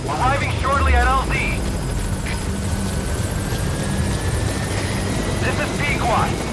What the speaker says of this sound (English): Have arrived at LZ. Will Support stand by. helicopter has arrived.